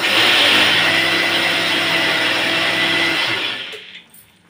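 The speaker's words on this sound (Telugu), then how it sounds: "ఇప్పుడు మిక్సీ జార్లో మనం వేయించి పెట్టుకున్న మిరపకాయలు ఉన్నాయి కదా, కొంచెం ఉప్పు యాడ్ చేసుకొని మిక్సీకి వేసుకుందామండి" An electric mixer grinder whirs loudly and steadily as it grinds fried red chillies with salt, then winds down and stops near the end.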